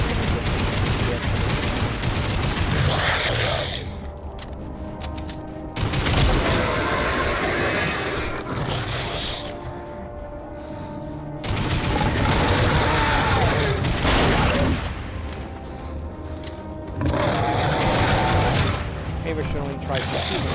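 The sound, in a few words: gunfire shooting at a monster in video game Lost Planet 3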